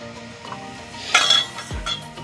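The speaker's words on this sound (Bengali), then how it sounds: "প্রথমে আমরা এই পেছন সাইডগুলো একটু কেটে নেব" A knife trims the ends off wild hog plums (amra) for a pickle: close, light clinks and scrapes against a hard surface, then a soft thud, with no voice.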